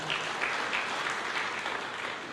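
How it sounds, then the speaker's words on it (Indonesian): A congregation at a church sermon claps steadily and loudly for a couple of seconds, dense applause with no break. "Berikan tepuk tangan ya mereka."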